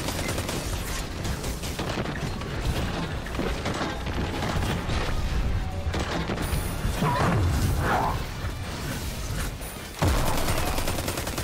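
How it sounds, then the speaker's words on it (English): Rapid gunfire rattles in the Destiny 2 Eater of Worlds raid, dense bursts of shots and mechanical clatter with a few sharper impacts, loud and continuous, with no voices. "what the hell was shooting me?"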